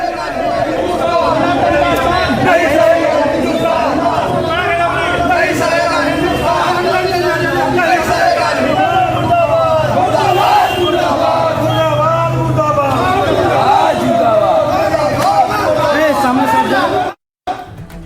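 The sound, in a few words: angry protest crowd shouting in Howrah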